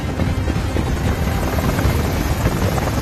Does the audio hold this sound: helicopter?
yes